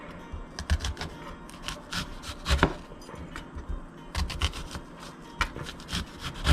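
A knife cuts onions and tomatoes into thick slices on a board. Soft, rhythmic strokes and taps come close and fairly quiet, in irregular bursts with brief pauses.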